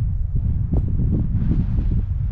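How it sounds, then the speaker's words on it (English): Gusts of wind buffet the microphone outdoors in the Arizona desert during metal detecting for gold nuggets, a steady, loud low rumble with rustling that swells and continues for the whole stretch. "Oh, it's getting pretty windy."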